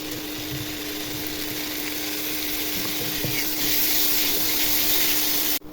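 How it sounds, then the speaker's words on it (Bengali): Ginger and garlic sizzle in hot oil while bhuna khichuri is cooked, a steady close crackling hiss that swells louder toward the end before cutting off, with no talking. "এখন আদা রসুন দিয়ে ভেজে নিব"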